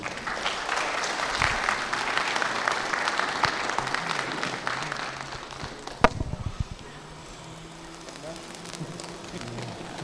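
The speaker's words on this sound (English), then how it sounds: "A round of applause." Audience applause at the Kenya Road Design Manual launch, a dense, steady round of clapping that stops abruptly after about six seconds with a sharp knock, leaving a quieter room with faint murmurs.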